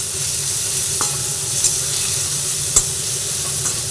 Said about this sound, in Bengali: কাঁচা লঙ্কাগুলোকে একটু ফাটিয়ে নিয়ে দিয়ে দিলাম